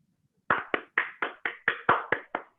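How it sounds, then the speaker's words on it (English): A single person claps nine times at an even, moderate pace, each clap crisp and close against near silence. "I assume everybody's clapping"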